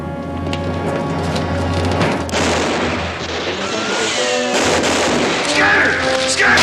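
Gunshots and booms in a western film, loud blasts standing out over a background of rumbling action and score, with several sharp reports in the second half.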